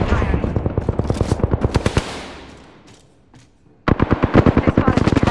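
Rapid automatic gunfire in the Apex Legends video game, loud and close, with a long burst that fades into a short lull before a second sustained burst resumes.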